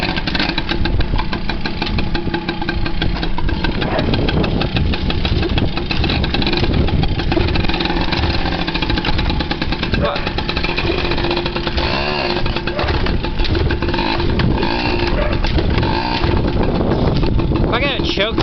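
A dirt bike engine runs loud and close, a rough, buzzing idle with uneven revving throughout, and a voice speaks over it.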